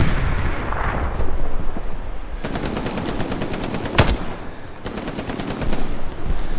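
Rapid machine-gun fire in a video game rattles from a house in sustained, loud bursts. Rhythmic automatic fire and a sharp louder crack come near the middle, with no talk.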